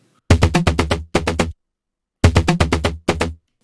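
A bright, buzzy synth lead plays short rhythmic bursts of notes in two phrases separated by a pause, clean and upfront with no audible effects.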